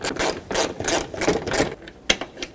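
A 10mm bolt is loosened on the fender of a 2012-2017 Toyota Camry, giving a quick run of close, rhythmic ratcheting clicks and one sharp snap near the end.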